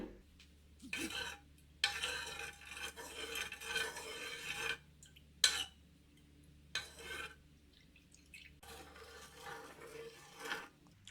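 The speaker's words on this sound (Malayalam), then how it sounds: "നന്നായിട്ട് ഇളക്കിക്കൊണ്ടേ ഇരിക്കുക, അല്ലെന്നുണ്ടെങ്കിൽ അടിയിൽ പിടിക്കും." A spoon scraping and stirring date syrup as it reduces in a pan over a medium flame, in repeated bursts of rubbing and scraping separated by short pauses, close and fairly loud with no talk.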